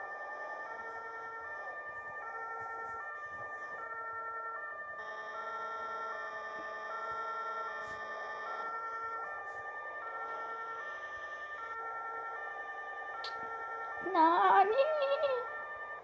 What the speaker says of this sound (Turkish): Ben dediğim gibi arabalara göre siren kullanıyorum.